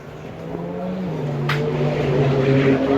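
A YD Motorsports 765 LT race car of close to 1,000 horsepower drones at a time attack event, its engine note sliding and slowly climbing in pitch as it grows steadily louder, without speech.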